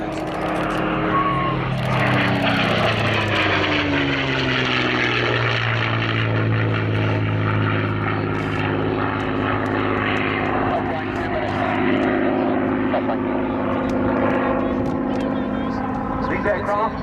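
A propeller-driven Mustang fighter flies past at the Cosford airshow, its engine a loud, steady drone with shifting pitch as it passes, under continuous commentary from a public-address announcer.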